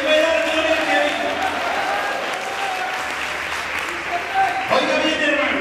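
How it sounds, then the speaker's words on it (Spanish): Congregation clapping during a Spanish-language Thanksgiving church service, a loud, dense, sustained burst of applause filling the whole stretch, with voices mixed faintly underneath. "Le quiero dar esas palmas al Señor en esta hora"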